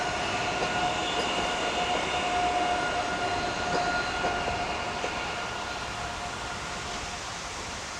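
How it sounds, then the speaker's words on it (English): Trains rumble and hiss through a busy station in Poland, a steady rolling roar with a faint metallic squeal, gradually easing off toward the end. "lots of trains coming in and out all the time"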